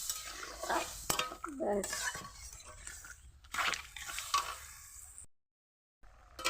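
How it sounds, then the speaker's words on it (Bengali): Mixed vegetables with cauliflower stirred with water in a pan, spoon scraping and clinking against metal in a few bursts, with a brief spoken word and a short silent gap near the end. "জল, পরিমাণ মতন জল দিয়ে দেব। নেড়ে ছেড়ে দেব।"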